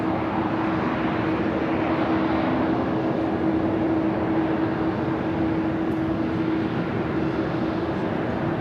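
A Delta airliner landing at Los Angeles LAX roars in a steady, broad engine rumble with a sustained low whine, loud and continuous throughout, with no voices.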